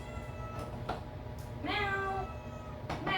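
A cat lets out a clear, drawn-out meow in a kitchen, with fainter short cries around it over a low steady background hum.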